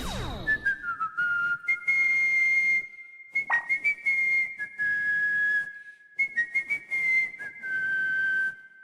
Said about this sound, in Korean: 휘파람을 분다고?